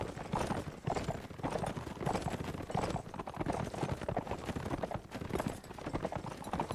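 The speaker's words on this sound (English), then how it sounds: "my horse is so slow now" A horse gallops in the video game Mount & Blade: Warband, a rapid, steady drumming of hoofbeats heard close and continuous throughout, with battle noise mixed in.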